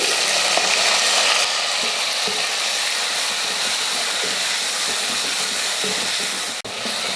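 Onions sautéing in a pan for drumstick sambar give a steady, close hiss of frying that runs the whole time, with faint scrapes and clicks over it.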